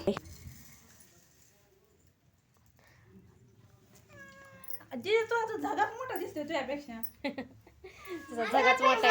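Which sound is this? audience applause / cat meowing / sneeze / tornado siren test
cat meowing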